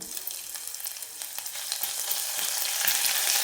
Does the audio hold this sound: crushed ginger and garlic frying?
yes